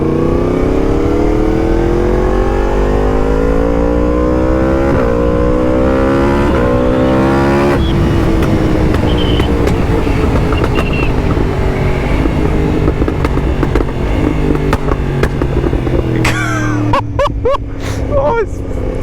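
A Yamaha MT10 motorcycle fitted with a loud Akrapovic exhaust rides along, its engine droning and revving up through the gears with rising pitch, a loud continuous roar close to the microphone.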